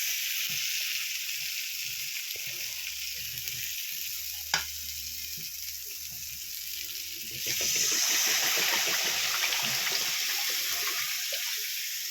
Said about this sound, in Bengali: এখানে আমি মাছের ঝোলটা বসিয়ে দিয়েছি।